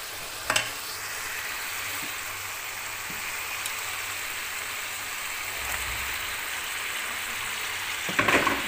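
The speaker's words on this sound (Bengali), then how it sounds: "আমি এখানে আলুটা দিয়ে দেবো।" Potatoes and fresh tomato fry in a pan, giving a soft, steady sizzle throughout with a few faint clicks of stirring and utensil contact.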